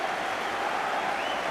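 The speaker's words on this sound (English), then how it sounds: "listen to the applause" A football stadium crowd at a Manchester City match applauds steadily, a dense, even wash of clapping from a large crowd at a distance, unbroken for the whole moment.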